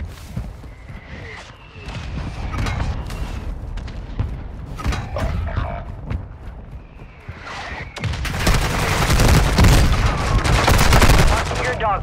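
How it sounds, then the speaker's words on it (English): Mortar strike explosions in Call of Duty: Modern Warfare II land as a dense run of loud booms and gunfire bursts, building into a sustained barrage near the end amid battle chatter. "Mortar strike on the way."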